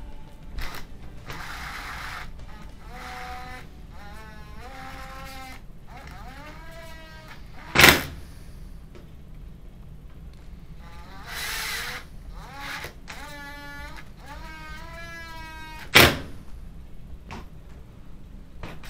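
A power drill whirs in repeated short bursts with rising and falling pitch as screws are driven while reassembling an LG washing machine, punctuated by two sharp clacks.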